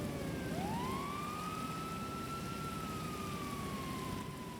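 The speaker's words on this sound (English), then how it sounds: "I hear sirens in the area." Video game police sirens wail and rise, holding a long sweeping tone over a steady low rumble and hiss, continuous throughout.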